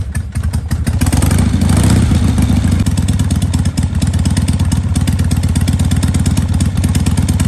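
A Harley-Davidson Shovelhead big-twin motorcycle engine, just restarted after loose spark plug boots were fixed and with the choke off, runs loud and close with a steady, even lumpy idle and no voices.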